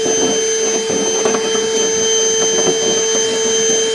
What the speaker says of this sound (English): Go ahead and vacuum up our shavings here.